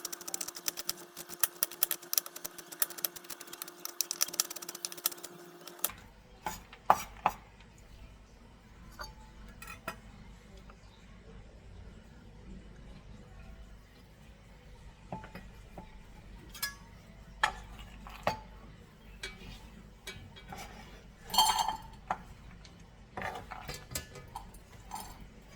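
Knife chopping walnuts finely on a board for Georgian kuchmachi: a run of sharp, irregular taps, close and fairly quiet, with brief louder bursts and no voices.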